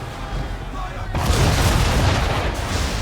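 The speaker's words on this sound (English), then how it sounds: "Use the swivel gun and use broadside." Heavy cannon blasts from a sailing ship's swivel gun and broadside battery during an Assassin's Creed 3 naval battle, a sudden loud booming onset followed by sustained rumbling gunfire with no talk.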